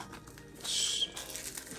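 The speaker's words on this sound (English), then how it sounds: "Velcro works" A Velcro strap on a GoPro Hero 9 POV photography camera bag is pulled, giving one brief, close, bright tearing rasp of under half a second amid quiet handling noise.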